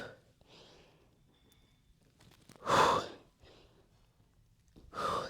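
Slow, controlled breaths during a yoga sculpt session, two loud exhales about two seconds apart with softer inhales and quiet pauses between, close to the microphone.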